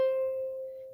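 A single ukulele bottom string plucked on its own, one clear sustained note with bright overtones ringing out and slowly fading, close and alone.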